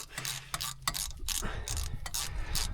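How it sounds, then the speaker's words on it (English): Metallic clicking and ratcheting bursts come from pulling the drain off the carburetor of a 1940s CAT D8 dozer, irregular, close and fairly quiet, with no talk. "I'm going to pull this drain off the carburetor here"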